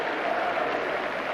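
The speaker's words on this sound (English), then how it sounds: "Applause all around the ground though." A football crowd at Highbury applauds at the end of an Arsenal v Liverpool League Cup replay, a thick, continuous patter of clapping from all around the ground, steady and loud throughout.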